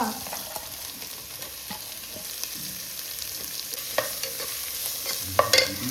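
Finely chopped onion sizzles with ginger and garlic in a hot pan while it is stirred, a steady frying hiss broken by scattered spoon scrapes and clacks.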